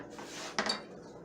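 Baking items being set down in a kitchen sink: a brief cluster of metallic clinks and clatter of dishes and utensils, one main impact followed by a couple of lighter knocks, close and moderately loud.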